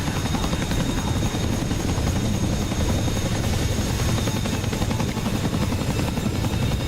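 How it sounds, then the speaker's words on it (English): A Chinook helicopter roars overhead with a loud, continuous rotor thrum and a dense low rumble that stay steady throughout, with no voices over it. "that Chinook almost ate shit"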